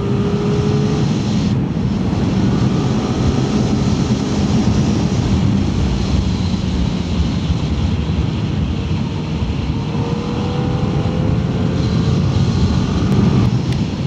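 A Kawasaki Ninja ZX-4RR motorcycle being ridden, heard as a continuous loud rush of engine drone and wind noise, steady throughout with slight shifts in engine tone.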